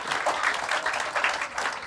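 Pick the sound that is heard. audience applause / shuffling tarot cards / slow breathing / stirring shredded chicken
audience applause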